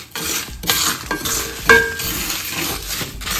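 Crab theeyal masala being stirred in a pan, with close, loud, continuous scraping and sizzling and a couple of light metallic clinks.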